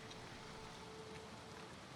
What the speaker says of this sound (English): I hope you don't mind the rain.